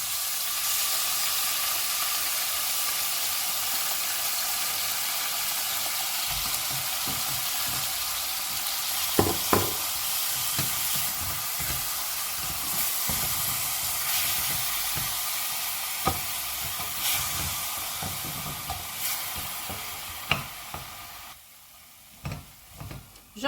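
Chopped chicken frying in a pan for a Kabyle winter stew sizzles with a steady hissing crackle, broken by scattered clinks and scrapes of stirring, fading as the heat dies down near the end.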